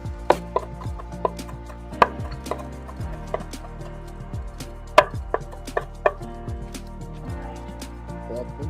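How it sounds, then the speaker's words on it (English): A kitchen knife rough-chops an unpeeled English cucumber on a cutting board, giving irregular sharp knocks, some clustered and some spaced apart, close and clear with no talk. "The skin on a English cucumber is very tender. You don't need to peel it. Just rough chop it."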